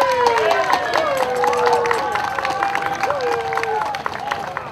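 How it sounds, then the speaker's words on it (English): A crowd at a town's 250th anniversary Old Home Day parade in Sandown, New Hampshire claps and cheers in a welcome round of applause, while amplified voices talk over the noise. "Let's hear a welcome round of applause."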